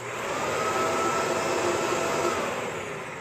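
A Shark upright vacuum cleaner runs loudly and steadily, its motor roaring with a high airy whine throughout, no voices.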